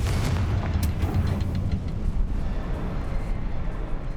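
A Confringo explosion spell in Hogwarts Legacy bursts with a deep, rumbling boom that rolls on as a low, loud roar, with a brief crackle near the start.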